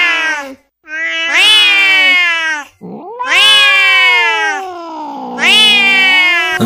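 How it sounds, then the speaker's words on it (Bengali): A cat yowls and caterwauls loudly in three long, harsh, wavering cries with brief pauses between, close and agitated. "এ তো বন বিড়াল ভাই, এত হিংস্র"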